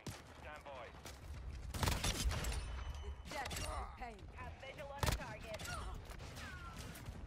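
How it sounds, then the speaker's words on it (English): A sentry gun in Call of Duty MW2 fires repeated bursts of shots, with sharp loud cracks at intervals over the scattered noise of the match. "The sentry is shooting at me."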